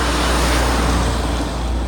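Loud, close roar of road traffic as a truck passes on a road, a thick continuous rumble with a heavy low drone and no break through the short stretch.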